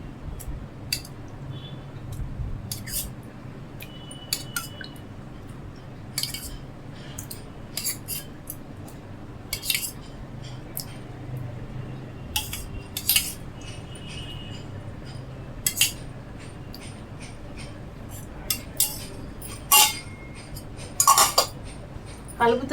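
A spoon stirs yogurt and garam masala in a pot, with scattered metallic clinks and scrapes against the pot over a low background hum, close and fairly quiet.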